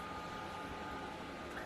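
Cloudline S6 external exhaust fan running at half speed for a laser cutter, giving a steady, fairly quiet broadband whoosh with a faint tonal hum and no change throughout.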